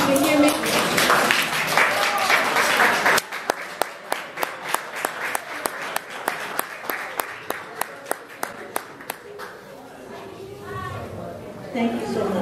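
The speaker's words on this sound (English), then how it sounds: "Clap twice if you can hear me." A crowd of women at a kitchen meeting claps along in a steady series of sharp, evenly spaced claps after an opening stretch of loud talk and murmur, with voices returning as the clapping ends.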